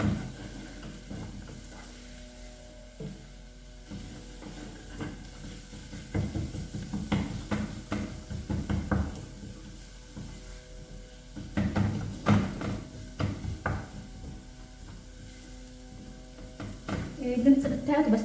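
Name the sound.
carrots and garlic frying in a pan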